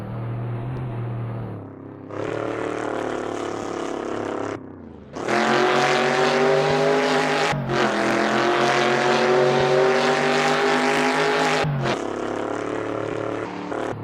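A 1970 Chevrolet Chevelle SS engine in Assetto Corsa revs hard in sustained bursts, dropping briefly between gear shifts before climbing again, with a rough, roaring tone throughout.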